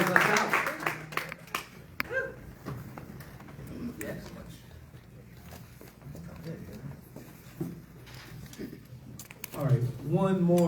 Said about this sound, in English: One last round of applause for our candidate.